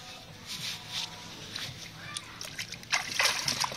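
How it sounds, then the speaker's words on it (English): A puppy splashes around in a small pool, with bursts of splashing and sloshing water that grow stronger toward the end, while a voice talks over it. "big splashes! Do it again, do it again."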